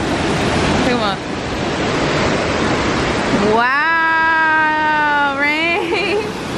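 Steady broadband rush of a waterfall fills the clip, with a person speaking in a rising, sing-song voice over the water noise near the middle and end.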